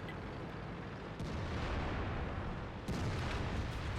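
Distant artillery rumbles and booms during a World of Tanks battle, a low continuous roar with a couple of sharper impacts standing out, fairly faint overall.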